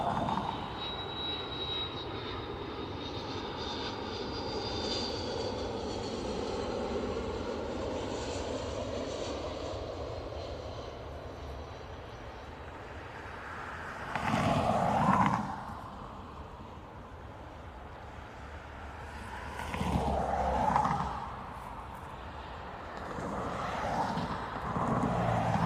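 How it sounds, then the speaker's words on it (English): An Airbus A330 arriving at Dublin from Washington drones steadily at a distance, its engine noise faint and even, broken by a few brief louder swells. "we do have an A330 arriving."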